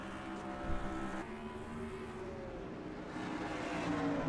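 Stock cars racing at Bristol in a racing video game, a layered drone of engines roaring around the short track, with pitch shifts as cars surge and pass, continuous and moderately loud.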